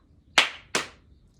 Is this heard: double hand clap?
yes